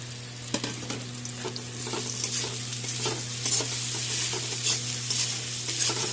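Ginger garlic paste sizzles and fries steadily in a pan with a steady hiss throughout, joined by occasional stirring scrapes, up close and without any talk.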